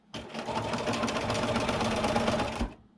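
A sewing machine doing free-motion quilting on gift bags, heard as a close, continuous whirring stitch burst of about two and a half seconds that starts and stops abruptly.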